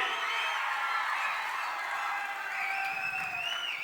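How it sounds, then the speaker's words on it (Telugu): Crowd noise at a TDP political meeting in Srikakulam, women attending, a dense continuous wash of clapping and cheering that stays loud and steady throughout, with whistles rising near the end. "గట్టిగా చప్పట్లు కూడా చెప్పండి"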